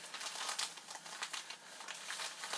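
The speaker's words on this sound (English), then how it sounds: "Here's an envelope somebody shipped to me." A bubble wrap shipping envelope handled close up, giving a soft continuous crinkling and rustling with small bursts, quiet and alone.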